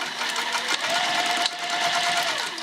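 Sewing machine backstitching a seam on a beginner bag at a 3 mm stitch length, its steady close whir running throughout with a brief pitch change as the direction reverses; no one speaks.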